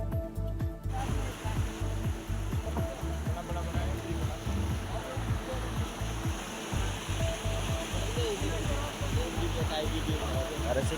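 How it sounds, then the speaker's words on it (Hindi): Water gushes out of a breached village pond embankment in Chandpura village, Rajgarh area, Rajasthan, a steady loud rushing roar throughout with mixed voices talking over it. "बड़ी तादाद में पानी की निकासी हो रही है।"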